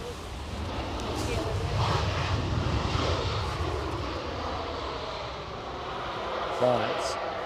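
KLM airliner at Edinburgh Airport, a broad jet engine roar swelling and easing in the distance across several seconds, with people talking over it.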